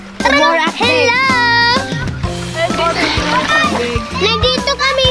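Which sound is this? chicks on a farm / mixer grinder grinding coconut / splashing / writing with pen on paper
splashing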